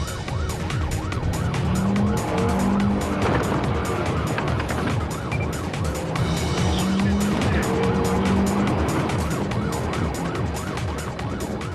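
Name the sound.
stolen 4x4 speeding down an unpaved track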